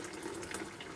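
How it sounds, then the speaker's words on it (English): Boiling water poured from a kettle into an ultrasonic cleaner makes a faint, steady, close trickling splash, heard on its own. "I'll just fill this up with boiling water like this, making sure it gets inside it and everything."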